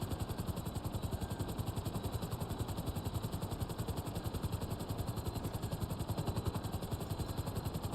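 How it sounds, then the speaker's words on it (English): A helicopter in the video game GTA Online gives a loud, steady rotor chop with rapid, even beating throughout and no pauses. "the helicopters are the most annoying in the game, Lendon."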